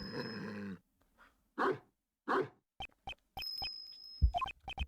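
A dog barks in the Ace Attorney Investigations 2 video game, several sharp separate barks set among game chimes and sound effects, with short quiet gaps between them.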